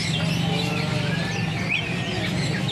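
Caged birds at a kiosk in the Pramuka bird market chirp and tweet continuously, bright overlapping calls close by over a busy market murmur, with faint fowl-like clucks mixed in.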